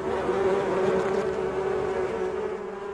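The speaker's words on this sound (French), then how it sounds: "il y a des abeilles partout. Elles sont en train de m'encercler alors que nous parlons." Dense, steady buzzing of many bees swarming close around a beekeeper in a village in China, a continuous droning hum with no talk over it.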